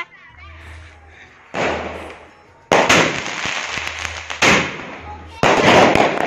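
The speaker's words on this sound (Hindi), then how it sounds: "देसी पटाखे। रवे भी तो बजाने हैं।" Desi firecrackers set off during a Diwali celebration in Gohana crack in a series of four loud, close bangs at irregular intervals, each trailing a noisy ringing decay, with faint voices between them.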